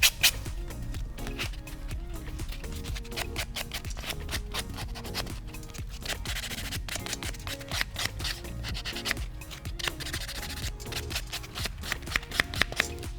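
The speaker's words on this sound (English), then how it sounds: "So just buff those edges off." A pink and white acrylic nail has its edges buffed in a salon, giving a steady, close scratchy rubbing that continues throughout at a quiet, even level.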